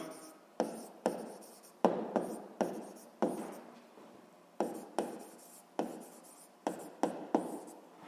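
A pen scratches across paper as notes are written out, close and quiet, in a string of short irregular strokes with brief pauses between words.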